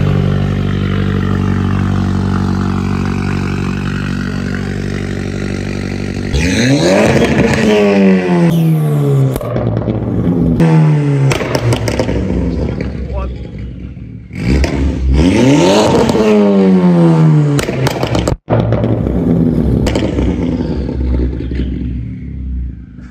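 Hyundai N-Line car with a custom boost tune accelerates hard through the gears, engine pitch repeatedly rising then dropping at shifts, loud and close from inside the cabin, with a steady idle-like drone beforehand.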